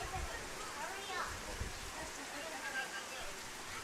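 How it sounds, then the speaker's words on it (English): Heavy rain pours steadily onto a Little League baseball field during a state championship game, a constant broadband hiss that stays even and fairly loud throughout, with faint crowd or field voices mixed in. "lot of rain coming down, so we'll see"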